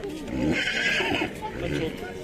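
A young female horse, a foal, whinnies at a busy livestock market, its neigh rising clearly over nearby chatter and crowd noise before fading into continued talk.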